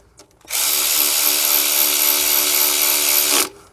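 Power tool driving and tightening oil pan bolts on a Honda Accord, a single loud, steady whirring burst of about three seconds, close by, starting and stopping abruptly.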